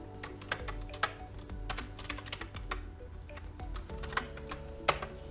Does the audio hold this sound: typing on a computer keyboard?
yes